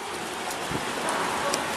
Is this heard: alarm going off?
no